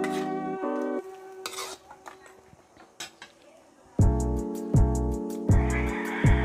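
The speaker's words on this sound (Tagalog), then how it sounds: "Mix na natin konti para ma-absorb na yung lasa ng karne." A spoon stirs pork ribs kaldereta in a metal pot, giving a run of clinks and scrapes, then four loud, evenly spaced clanks against the pot with a faint sizzle underneath.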